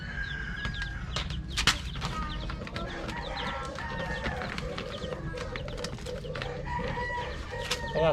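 Chickens cluck steadily throughout, with a rooster crowing loudly near the start and again toward the end, amid busy farmyard background noise beside a chicken coop being built.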